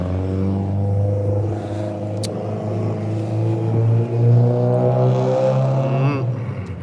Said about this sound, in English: My car is just getting loud again right here.